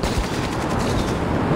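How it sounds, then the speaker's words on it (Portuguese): A machine gun fires in the Zooba mobile video game, a dense, rapid burst of gunfire that stays loud and continuous for the whole short moment with no pauses. "Metralhadora. Tem metralhadora aqui na hora"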